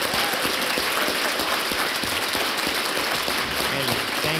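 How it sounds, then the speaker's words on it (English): An audience applauds a seminar panel with steady, rain-like clapping from a crowd across the whole span, at moderate loudness, while a speaker's voice is heard over it. "One more round of applause for the best panel we've had in a very long time."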